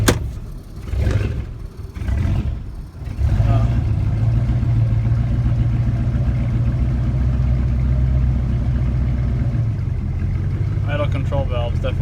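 A car engine idles steadily and close by, a low constant hum with an idle control valve working hard, after a few brief louder bursts at the start; a voice speaks over it early on.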